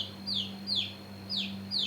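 A chick peeps four times, high and thin, with short downward-sliding calls at a steady pace over a low hum.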